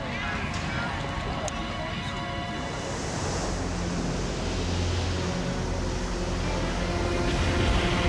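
Ocean waves of a Pacific tsunami surging in at a harbor bayfront, a dense, continuous rushing roar of water that holds steady and builds slightly.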